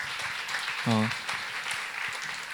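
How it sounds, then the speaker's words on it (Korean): Church congregation at a Korean high school Sunday service gives a short round of applause, a soft, diffuse patter across the room with a brief voice rising in the middle. "우리 하나님께 감사의 박수 올려드리겠습니다."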